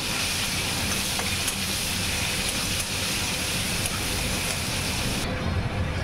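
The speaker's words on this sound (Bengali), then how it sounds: "পেঁয়াজটি হালকা ফ্রাই করব।" Onion frying lightly in a pan with black cumin, a steady dense sizzle that continues evenly without a break, close and fairly loud.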